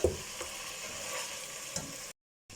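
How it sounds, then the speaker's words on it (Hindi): Onions and tomatoes frying in a pot for chicken pulao, a steady near sizzle with a couple of stirring scrapes, then a brief cut to silence before the frying returns. "अब फिर इसकी भुनाई कर लेंगे टमाटर ताकि गल जाएं अच्छे से"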